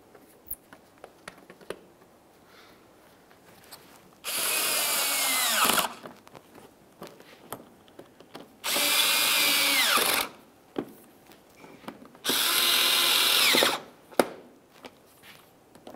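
A power tool drives fender liner mounting bolts in three separate loud bursts of whirring, each lasting about one to two seconds, with small clicks and handling sounds in the quieter gaps.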